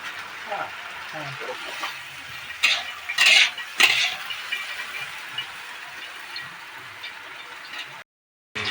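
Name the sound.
potatoes frying in mustard oil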